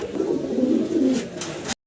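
Pigeons give a soft, low, rolling coo, close and fairly loud, lasting under two seconds before the sound cuts off.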